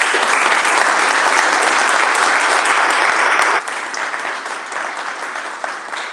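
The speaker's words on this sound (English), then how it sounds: "Give Katie a nice round of applause." Audience at an annual board of directors meeting applauding a colleague, a full, steady round of clapping that drops off abruptly partway and continues more softly.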